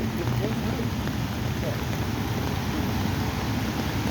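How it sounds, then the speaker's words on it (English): Steady rain falls outside during a roadside wait after a housing police cruiser crash on Columbus Ave in Boston, a continuous dense hiss with no gaps. "it is raining out"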